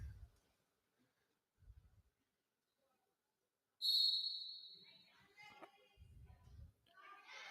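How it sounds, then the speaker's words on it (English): A referee's whistle gives one sharp, shrill blast at a middle school volleyball match, ringing out in a gym with faint children's voices, scattered thuds and crowd noise around it. "So she learned yesterday you got to wait for the whistle."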